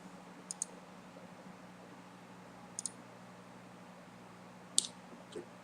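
A handful of sharp, close computer mouse clicks, a double click followed by two single ones, stand out against a faint steady hum in a quiet room.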